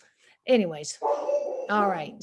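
A golden retriever barks in three sharp, loud bursts at a car driving by, with someone speaking between the barks.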